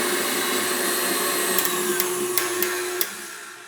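An electric mixer whipping cream toward stiff peaks, a steady high motor whine that runs continuously, with a few light knocks near the end.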